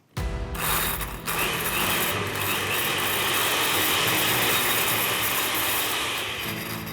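An old food mixer blitzes laksa paste ingredients, including fish sauce and anchovies, in a home kitchen, producing a loud, steady grinding whir that runs continuously for several seconds.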